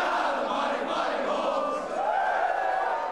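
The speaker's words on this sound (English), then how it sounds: "crowd" A 100,000-strong crowd at the MCG cheers in a loud, steady roar during a football premiership. The wash of voices is constant, with a few rising shouts across it.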